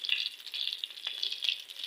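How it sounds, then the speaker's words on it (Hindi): Shami kebab patties fry gently in a pan with a steady, soft sizzle and crackle throughout, without speech. "जो शामी कबाब हमने फ्राई करने के लिए रखे थे वो हल्के हल्के फ्राई होना स्टार्ट हो गए"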